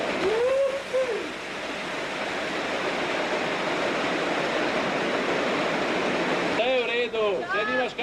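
Water rushes loudly and continuously through a canyon, a broad roaring wash close at hand, with people shouting and talking over it at the start and end.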